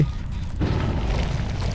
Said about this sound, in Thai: มีคนทำอะไรระเบิดตรงนู้น